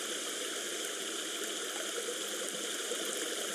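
Steady waterfall pouring near a tent in a horror survival video game, a constant broad rushing wash of falling water with no breaks, moderately loud and even throughout.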